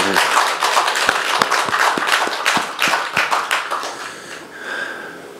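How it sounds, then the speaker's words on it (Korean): A Buddhist temple congregation claps for a monk after a New Year sermon, a close burst of loud, crisp handclaps that is dense at first, then thins into scattered claps and fades out. "우리 신도님 이거 스님한테 큰 박수 한번 해줍시다"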